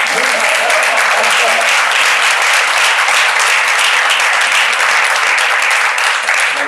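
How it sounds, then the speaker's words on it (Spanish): A conference audience applauds loudly and steadily, a dense wash of clapping that fills the whole stretch without letting up. "Un aplauso."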